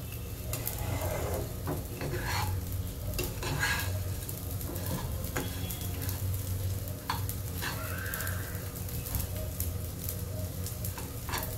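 Rice fries in ghee while it is stirred in the pan, with a steady sizzle under repeated scraping and occasional metal clinks throughout.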